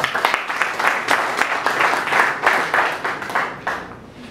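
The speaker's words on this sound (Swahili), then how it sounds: "tupige makofi ya kita" An audience at a gathering breaks into applause, a steady burst of many hands clapping close by that fades near the end.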